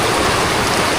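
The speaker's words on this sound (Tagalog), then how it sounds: "kaso lang bumuhos yung ulan" Heavy rain pours down in a dense, loud, continuous broadband hiss with no gaps or voices over the brief moment.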